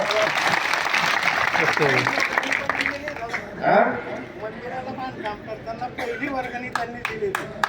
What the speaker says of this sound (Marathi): त्याच्यासाठी एकदा टाळ्या वाजवा